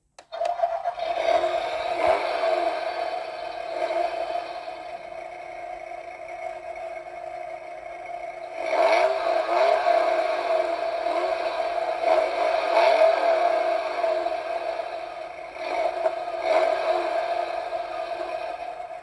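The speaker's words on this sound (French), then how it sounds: "On va écouter le bruit du moteur" A steady, buzzing small engine of a model Peugeot 205 GTI drones continuously, its whine swelling louder in the middle and again near the end.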